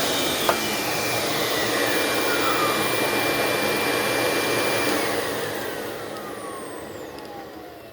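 Refurbished Eureka ESP Sanitaire commercial upright vacuum cleaner running steadily up close, a loud continuous motor whine and airflow roar with a short click near the start, easing slightly toward the end.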